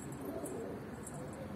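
Pigeon in a coop in Sivas, an eight-year-old flying bird, giving soft low coos over steady background hum, with faint chirps from other birds higher up.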